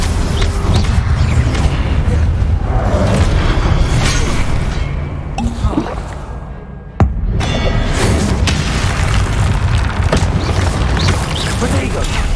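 In Hogwarts Legacy, an Incendio fire spell goes off during combat in a dense, loud rumbling roar, with a sharp burst near the middle and spell shouts mixed in.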